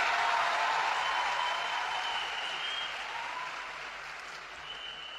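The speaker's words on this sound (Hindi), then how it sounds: "एक बार जोरदार तालियां" Steady audience applause greets India's Prime Minister Narendra Modi at an event with Delhi's Chief Minister, a dense wash of many clapping hands that slowly fades and thins over several seconds with no voices over it.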